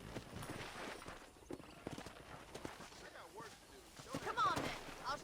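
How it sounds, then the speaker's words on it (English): Horse hooves clip-clop at a walking pace over rough ground in Red Dead Redemption, mixed with ambient outdoor game sounds and occasional voices. "I picked out a fine horse for you."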